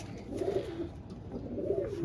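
Pigeons coo in a loft, a couple of low rolling coos spaced across two seconds over a steady close room murmur, with no talking.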